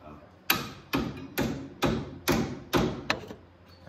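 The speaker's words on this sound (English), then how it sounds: "I'm going to tap on it with a hammer and see if we can get that." A hammer taps on a part under a 2001 Jaguar, seven evenly spaced, fairly close metallic knocks about half a second apart with short ringing tails.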